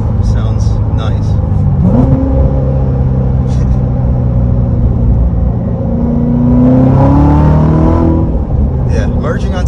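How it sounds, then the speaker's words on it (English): A car engine revs up and blips with rev matching during downshifts while merging onto a highway, climbing and falling in pitch around the two- and seven-second marks over a steady cabin drone, with someone speaking over it. "Listen to the rev match though. Ooh, sounds nice."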